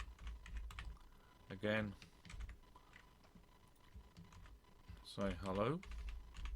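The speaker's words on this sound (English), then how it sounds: "now we actually get the ability to type in some code" Typing on a computer keyboard while writing Python code, a soft, continuous patter of keystrokes with a few brief spoken words over it.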